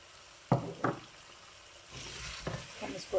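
A ground almond and whole spice powder frying in a pan, with a few sharp stirring knocks from a spoon followed by a soft, steady sizzle, close and moderately quiet.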